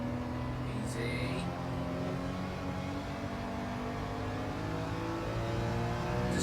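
Gran Turismo 7 race car engine, a Porsche 911 field, revving hard through corners and power slides, a steady dense drone with shifting harmonic tones, talk over it.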